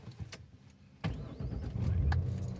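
A 1998 Ford Contour SVT starts up: faint clicks and rustles, then the starter catches with a sudden thump and the engine settles into a low, quiet idle, heard close with no talk.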